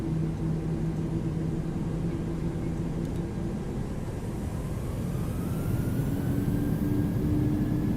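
A simulated PMDG Boeing 737-800 in Microsoft Flight Simulator 2020 spools up to takeoff thrust, a loud, steady jet engine roar with rising whine and sustained hum filling the whole stretch.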